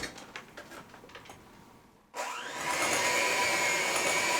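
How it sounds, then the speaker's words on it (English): An electric mixer on low speed mixing zeppole batter starts abruptly after a few soft clicks and quiet shuffling, then runs as a loud, steady whirring motor whine that rises slightly and holds close by. "You can use electric mixer on low speed"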